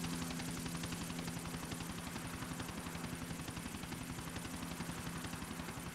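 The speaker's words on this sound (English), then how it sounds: "We go helicopter back to helipad." GTA 4 helicopter in flight, its rotor chopping in a steady, rapid rhythm over a constant engine drone, loud and close throughout with no talking.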